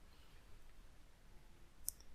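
A single sharp computer mouse click, quiet and brief, on a faint near-silent background while answering an online exam on the MyClass portal.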